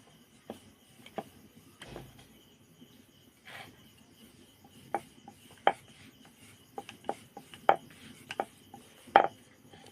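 A tawa rocks on a raised spot while a roti is rolled, making quiet, uneven metallic knocks and clacks that come faster and louder toward the end against a hushed background.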